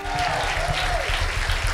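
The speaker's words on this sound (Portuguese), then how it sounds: "Dê uma salva de palmas para eles" During a Sunday consecration service in a church, the congregation applauds newly licensed ministers, a short, busy burst of clapping mixed with a low murmur and a voice rising briefly over it.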